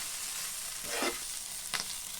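Green chillies fry in a pan with a steady hiss. Two brief swells of louder sizzling mark stirring, and no one talks.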